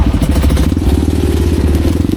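A motorcycle engine idles steadily up close, a low chugging rumble with faint rattling, running continuously throughout.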